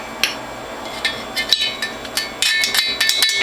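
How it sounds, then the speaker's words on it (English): A utensil scrapes pineapple ginger turmeric pulp off the removed grid of a Whole Health Foundation juicer, making sharp, close metallic taps and scratches in short irregular bursts over a quiet background. "scrape off the pulp"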